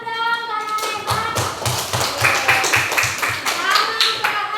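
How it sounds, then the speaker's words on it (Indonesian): Children in a primary classroom clap their hands together in a quick, rhythmic burst of repeated claps, close and lively, with a teacher's voice talking over the start. "Kasih tepuk tangan dulu dong"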